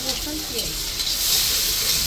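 Steady sizzling of onion and garlic frying in hot oil, a continuous bright hiss throughout with faint stirring underneath.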